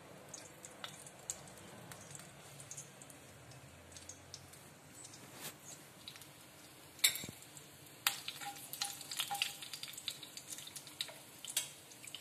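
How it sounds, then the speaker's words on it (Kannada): Mustard seeds and cumin crackle in hot oil, giving soft, scattered pops and sizzling bursts that grow busier toward the end, faint and close. "ಎಣ್ಣೆ ಕಾದಿಂದ ಸಾಸಿವೆ ಜೀರಿಗೆ ಸ್ವಲ್ಪ ಚಟ್ಪಟ ಅನ್ಬೇಕು"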